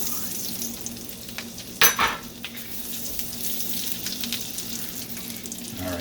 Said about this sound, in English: We're making some garlic butter now to cook the shrimp in.